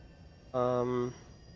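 Electric drive whine of a Formula E race car in the rFactor 2 sim racing game, a brief tonal, vacuum-cleaner-like hum swelling for about half a second over quiet background.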